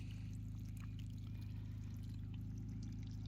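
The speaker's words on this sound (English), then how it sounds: "it's a steady stream, nothing crazy, but it'll work." A faint, steady trickle of water runs into a holding spot at a rough tent campsite, a soft continuous pour under a constant low hum, with no talking.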